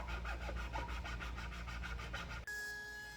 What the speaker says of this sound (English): Rounding over all the exposed edges and giving it a good sanding now will save a lot of trouble later on.